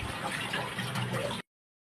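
Tap water running steadily as meat is washed, a close continuous splashing rush that cuts off abruptly into silence.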